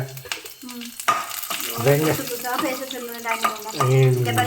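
Mustard seeds, urad dal and curry leaves fry in hot oil with a crackling sizzle and stirring, while a voice talks over much of it.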